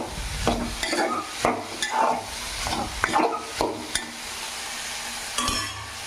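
Ridge gourd pieces fry in a pan with a steady sizzle, broken by repeated scraping strokes of a spatula stirring them, each stir a short clatter against the metal, close and fairly loud.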